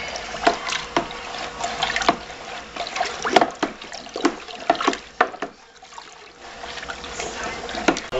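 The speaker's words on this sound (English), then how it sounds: "So now we're going to stir it all really well." Five gallons of Skeeter Pee homebrew mixture being stirred in a bucket, uneven sloshing and swirling liquid with knocks of the spoon, fairly close and moderate in level.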